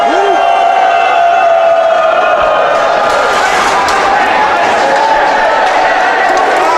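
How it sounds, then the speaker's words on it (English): Hockey arena crowd at a West Virginia versus Virginia Tech game lets out a rising woo after the referee falls, a loud sustained roar of many voices with whoops and shouting on top. "Crowd gives him a little woo."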